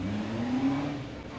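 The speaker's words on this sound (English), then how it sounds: "Revs begin to rise then." An autograss race car engine at a Kings Lynn meeting revs steadily upward on the start line, a loud continuous rising drone with heavy crowd and track ambience and no speech.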